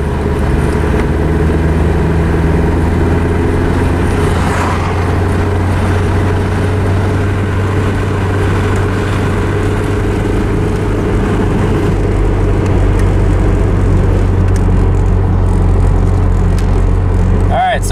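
A Volvo wagon engine drones steadily at about 3,500 RPM while cruising at 55 mph with the overdrive not engaging. The loud, constant hum and road roar are heard from inside the car without a break.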